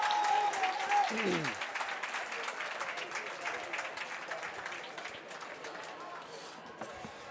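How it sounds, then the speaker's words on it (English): A stadium crowd at a track meet applauds and cheers steadily for the triple jump, a broad wash of clapping that fades slightly over several seconds. "The crowd likes what they see from the triple jump."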